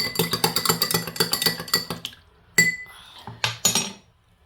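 A spoon stirs honey into homemade herbal cough tea, clinking rapidly and rhythmically against the cup, then slowing to a few separate, ringing taps with short pauses between them.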